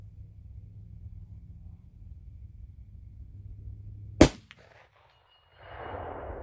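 A single gunshot from a Henry 350 Legend single shot rifle fired at a target, one sharp loud crack over a low background hum, followed by a brief ringing tail and then quiet noise.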